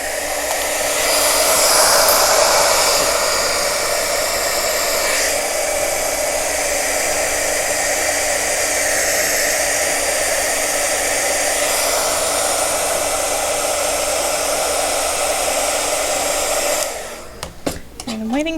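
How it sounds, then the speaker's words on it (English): Heat gun blowing hot air onto Shrinky Dinks plastic, a loud, continuous airy whir that holds steady for about seventeen seconds before cutting off, followed by brief handling noises. "now my heat gun is a bit hotter, so hopefully that means it's going to work better"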